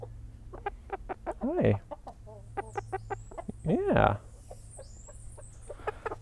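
Hens and the flock's alpha rooster on a tropical permaculture homestead cluck steadily and close by, with two louder drawn-out calls standing out; a person briefly speaks over them.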